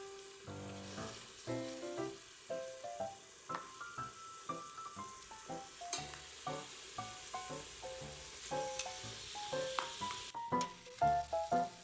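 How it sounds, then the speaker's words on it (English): Beef pieces browning in a soup pot give off a light crackling sizzle, punctuated by repeated clinks and scrapes of a utensil moving the meat in an uneven rhythm, close and moderately quiet with no voices. "Yeah, it's sizzling a little bit,"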